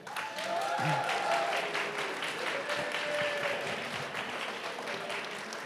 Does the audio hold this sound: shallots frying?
no